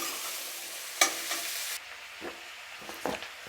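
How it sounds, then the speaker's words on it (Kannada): Onions and tomatoes frying slowly in a pan over a low flame, a soft steady sizzle with a few spatula scrapes and stirs, heard alone at low volume. "ಸಣ್ಣ ಹುರಿನಲ್ಲೇ ಇಟ್ಕೊಂಡು ಫ್ರೈ ಮಾಡ್ಕೊಳ್ಳಿ."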